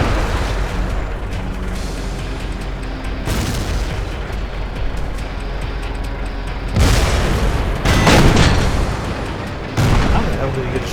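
Heavy booming tank cannon fire from World of Tanks rolls through a dense battle din, with several loud blasts and impacts standing out as someone talks over the noise.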